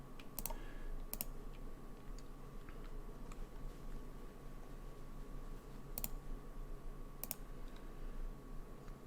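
Computer mouse clicks sound close and crisp: a quick double click early, a sparse pause, then single clicks spaced apart, over faint room hum with no speech.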